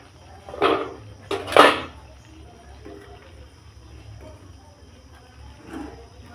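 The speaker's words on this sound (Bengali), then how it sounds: "ঢাকনাটা খুলে দেখে নেব কুমড়োটা সেদ্ধ হয়েছে নাকি" A lid is lifted off a pot of boiling pumpkin, giving two or three quick metallic clatters close by, then a quiet simmering background with a faint knock near the end.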